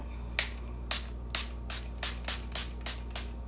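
Quick hissing bursts of Milani Make It Last setting spray misting onto a face, about eight short spritzes in a steady rhythm, close and distinct over quiet background hum.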